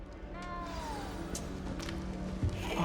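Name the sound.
cat meowing in video game Hogwarts Legacy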